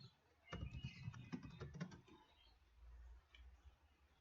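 Quick bursts of typing on a computer keyboard while entering a command, a flurry of close, light key clicks for about a second and a half, then quiet room tone with a faint click near the end.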